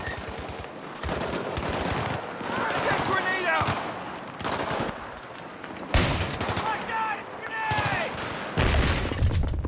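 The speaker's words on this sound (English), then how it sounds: "Because there's a lot of gunfire," Heavy, dense gunfire from the video game Battlefield 3, loud bursts and repeated shots crackling throughout with brief sweeping effects, while muffled in-game voices sound under the firing.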